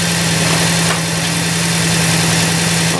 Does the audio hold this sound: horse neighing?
no